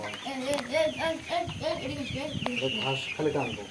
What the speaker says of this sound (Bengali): অনেক সাধনার পরে আমি খামারের মুরগির বাচ্চা উড়াইলাম